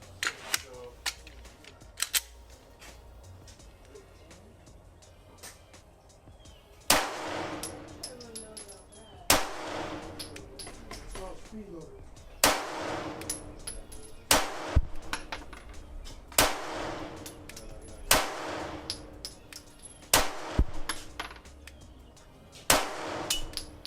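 Ruger RXM pistol fired in a series of sharp, loud gunshots spaced a couple of seconds apart, each with a brief ringing tail, following a quieter stretch of handling noise at the start.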